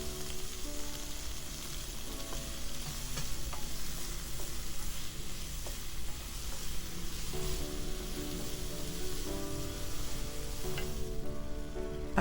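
Beef and garlic stir-frying in a hot wok for classic beef and broccoli, a steady loud sizzle throughout with occasional scraping stirs, no talking.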